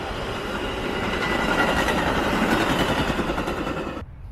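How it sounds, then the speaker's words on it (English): A train rushes past nearby with a loud, sustained roar and rhythmic wheel clatter that builds and then cuts off abruptly near the end. "there's going to be another train coming here"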